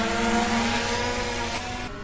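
Krossblade SkyProwler 2 drone motors spinning up for takeoff, a loud continuous close whirring drone with steady tonal hum that eases slightly toward the end.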